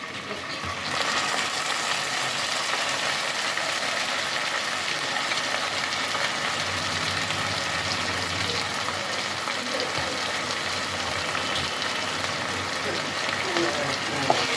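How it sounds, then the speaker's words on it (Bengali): Ginger, garlic and tomato paste frying with onions in a kadai, a dense, even sizzle that runs steadily throughout at moderate loudness, close up, with faint background voices. "এবার আমি এর মধ্যে দিয়ে দিচ্ছি আদা, রসুন আর টমেটোর পেস্ট।"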